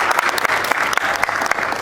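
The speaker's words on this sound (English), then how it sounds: "a huge round of applause for Shafat Ali" Brief burst of audience applause at a smartphone launch event in Pakistan, a dense crackle of many hands clapping with a few sharper individual claps standing out.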